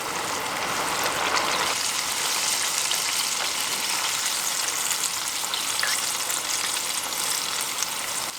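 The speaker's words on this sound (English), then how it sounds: "gently add each piece of chicken to fry for about 2 minutes or until the outside is slightly golden brown" Pieces of chicken for Japanese karaage deep frying in hot oil, a steady dense sizzle and crackle that holds constant and close throughout with no talking.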